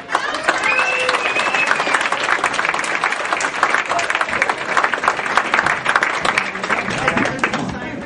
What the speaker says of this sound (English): please give a nice warm welcome, round of applause for Mr. Jay Bach.